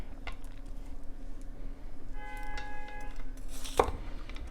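A knife chops a green bell pepper into little pieces on a cutting board for sofrito, giving a few sparse, soft taps over a steady kitchen hum.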